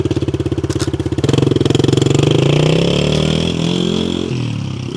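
A Yamaha TTR110 kids' dirt bike with a 3-speed semi-automatic gearbox idles with a close, putt-putting thump, then revs up and pulls away, its engine note climbing steadily before easing off.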